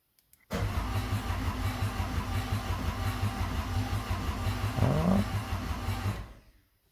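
A Peugeot 1.6 HDi diesel car with a high-pressure sensor fault cranks steadily for about six seconds without catching, the starter's rhythmic churn loud and close before cutting off.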